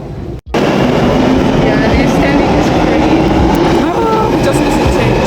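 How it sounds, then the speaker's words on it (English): A train at London Bridge Station gives a loud, steady rumble with faint squealing tones, running continuously after a brief silent gap near the start. "Just listen to train"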